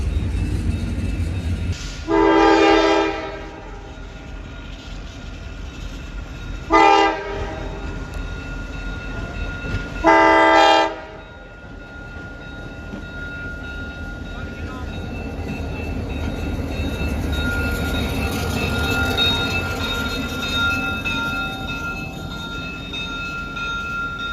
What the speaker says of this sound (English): I'm going to wait for that train to go by